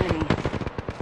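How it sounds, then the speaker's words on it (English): Rapid bursts of enemy gunfire in a sci-fi shooter video game, loud and dense over a second, crackling shots overlapping with game sound. "The enemies are shooting at me."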